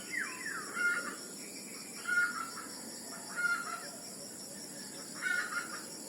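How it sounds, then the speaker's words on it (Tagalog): A hen clucks and cackles in four separate short bursts spaced a second or two apart, moderately faint over a steady background hiss. "Ayan o si Bulana, namumutak"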